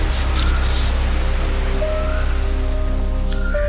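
Steady rain falls as a continuous, even hiss of drops on a surface, with a few faint tonal sounds layered over it and no talking.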